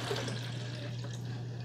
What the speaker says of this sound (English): So I'm gonna fill the water tank up